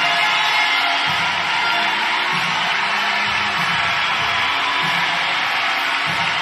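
Crowd at a rhythmic gymnastics world championship all-around final in Valencia cheering for Italian gymnast Milena Baldassarri, a dense, sustained roar of whoops and yells filling the hall, loud and continuous.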